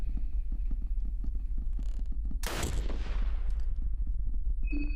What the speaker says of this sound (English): I shot his arm.